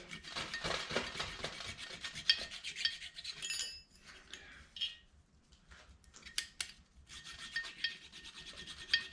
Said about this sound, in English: Just going to file that down so it's nice and smooth.